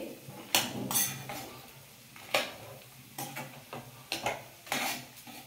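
Soya chunks are stirred through veg fried rice in a pan with a spoon, giving a series of separate clinks and scrapes against the metal, some sharp and close, spaced irregularly over a faint background hiss.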